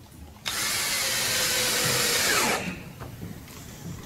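A power drill drives a screw into a pre-drilled board during bridge building. Its steady whine runs for about two seconds, close and loud, with no talk over it.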